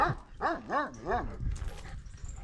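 A large dog gives three or four quick, whiny yelping barks up close, then trails off into a soft whimper and background noise.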